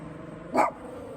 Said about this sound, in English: Okay, another doggy.